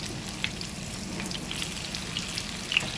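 Zucchini patties sizzling in a frying pan right after being flipped, a steady close crackle of hot oil with scattered small pops and spits, no talking.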